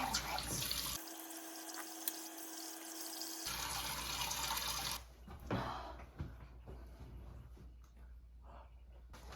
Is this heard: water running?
yes